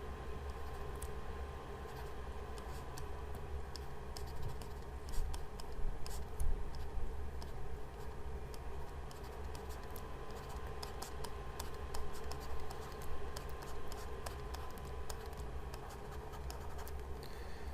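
A pen scratches across a writing surface during a statistics lesson, producing faint, intermittent scratchy strokes over a quiet steady background hum, with no speech.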